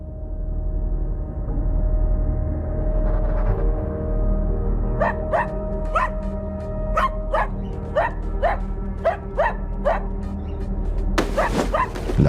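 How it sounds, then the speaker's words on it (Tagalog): A pet dog named Lucky barks repeatedly in a dark house at night, a series of sharp, fairly close barks in an irregular rhythm over steady low background hum, with no voices. "Ba't ka ba tahol ng tahol dyan?"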